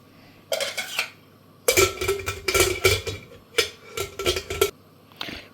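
A pressure cooker lid is closed and handled in a home kitchen while rice is being set to cook, giving several bursts of close metallic clanks and scrapes with short pauses between them.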